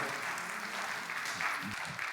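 Church congregation applauding to welcome a pastor at a Thursday worship service, a steady, moderately faint wash of clapping that holds for a couple of seconds.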